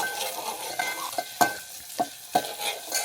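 Onion, tomato and curry leaves fry in oil while being stirred in a pan for a Konkan home recipe. A soft sizzle runs beneath several sharp metal spoon scrapes and knocks against the pan, close by and without talk.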